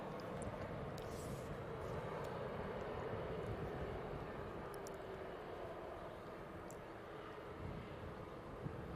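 A SmartLynx Boeing 737 MAX 8 on its takeoff roll at Manchester Airport gives a steady, distant engine roar that holds at an even, fairly faint level, with no talk over it.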